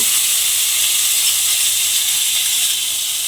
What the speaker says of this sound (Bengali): পেঁয়াজ বাটাটা এর মধ্যে দিয়ে তেলের মধ্যে একটু নাড়াচাড়া করে ভেজে নিতে হবে